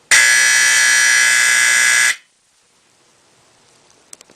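Simplex fire alarm sounding a loud, harsh, steady buzz for about two seconds, then cutting off abruptly into near silence with a few faint clicks.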